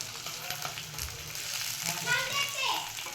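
Sweet potato slices fry and sizzle in a pan while children chatter in the background. The frying hiss is steady and moderately loud.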